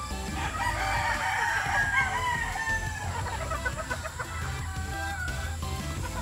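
Gilmore gamefowl roosters at a game farm crow in a strained, wavering call near the start, followed by scattered clucks and bird chatter over a low background rumble.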